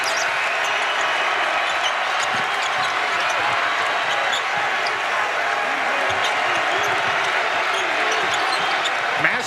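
A dense basketball arena crowd roars steadily through a Baylor versus Creighton college game, a loud continuous wash of cheering and chatter with no break, broadcast commentary faintly underneath.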